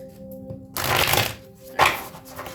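Oversized tarot cards being shuffled by hand, a papery riffling burst of about a second, then a brief pause and a second shorter flurry, close and fairly loud.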